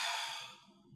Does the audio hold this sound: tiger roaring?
no